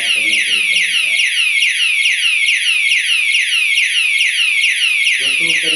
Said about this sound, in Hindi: अब जैसे ही लॉक करेंगे ये आवाज करना शुरू कर देता है।